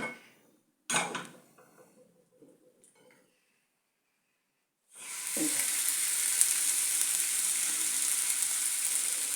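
Fish goes back onto a hot tawa. A few clinks and a quiet pause come first, then a loud, steady sizzle of frying that continues close up without a break.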